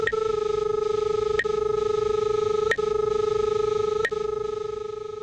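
A RIDGID SeekTech SR-20 utility locator gives a steady electronic feedback tone whose pitch follows the proximity signal, sounding as a continuous buzzy hum broken by four evenly spaced short clicks, loud and close with no talk.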